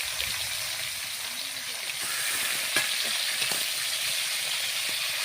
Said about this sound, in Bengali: বন্ধুরা মাছগুলোকে ভালো করে ভেজে নিচ্ছি